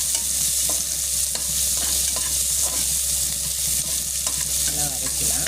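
A large onion sautés in a hot pan on the stove, giving a continuous, even sizzle with occasional scraping stirs, close and loud, with no talk.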